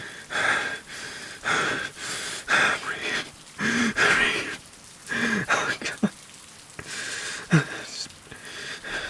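Steady rain hiss with patter on surfaces, punctuated by repeated heavy, gasping breaths close by throughout.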